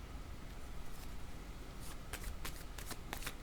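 Tarot-style cards are shuffled for a card reading, a run of crisp riffling bursts that grows denser toward the end, close and fairly loud with no talking.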